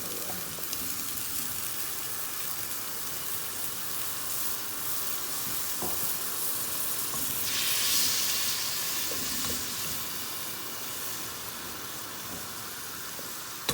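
Tomatoes cooking in hot oil for pizza sauce give a soft, steady sizzle and hiss, with a brief surge of spattering midway and a faint clink of stirring.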